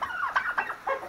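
Turkeys on a farm give several quick, fairly close clucks and chirps in a short irregular burst.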